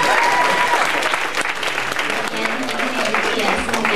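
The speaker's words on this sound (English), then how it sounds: "Let's give a round of applause to all our winners tonight." Applause from the audience at an evening kick-off reception, cheering raffle winners: dense, steady clapping that holds for the full four seconds, with faint crowd voices and a few whoops mixed in.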